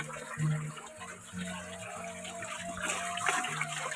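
Water runs in a bathroom of a remote Sundanese village, a continuous splashing flow heard close, with someone speaking over it.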